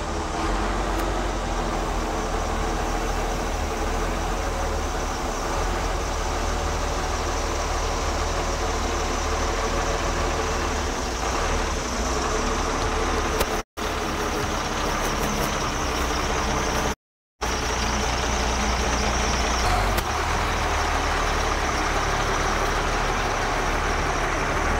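Class B commercial vehicle engine running steadily at a low idle during cone-parking practice, a constant close rumble that drops out briefly twice, with no talk.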